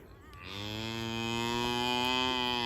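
A cow on a small permaculture farm moos once, a single long, loud, rich low call that begins after a brief pause and sustains steadily to the end, close to the microphone.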